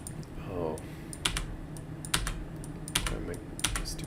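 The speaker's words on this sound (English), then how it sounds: "My stupid keyboard." Clattering keystrokes on a computer keyboard, in irregular bursts with loud sharp clicks, close and fairly prominent, with a brief murmur of speech near the start.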